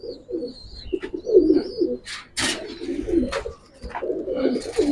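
Pigeons of a fancy breed such as Giribaz coo repeatedly in a cage, with low, throaty, rolling calls overlapping close by, and a few higher chirps and rustles in between.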